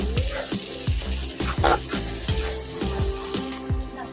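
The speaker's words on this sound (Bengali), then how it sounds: "আদা রসুন থেকে যতক্ষণ না কাঁচা গন্ধ যাচ্ছে ততক্ষণ পর্যন্ত আমি ভেজে নেব" Ginger and garlic paste frying in a pan for a chicken and potato curry, with a loud close sizzle under regular scraping strokes of a spoon against the pan, about eight rhythmic stirs with no talking.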